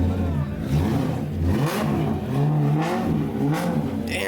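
Loud supercar engines revving at a car meet, with rising and falling growls and close, aggressive throttle blips, mixed with crowd noise and voices nearby.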